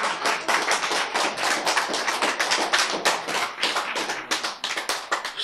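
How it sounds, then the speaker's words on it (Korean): An audience in a lecture hall breaks into applause, loud dense clapping from many hands held steady for several seconds, close and without voices. "박수."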